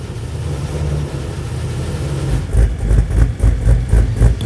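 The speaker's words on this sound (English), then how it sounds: "the idles is really, really hard chop" A cammed, air-bagged GTS R with a modified exhaust idles with a hard, lumpy chop. A steady low rumble close by swells into louder, choppy pulses partway through, with no talking.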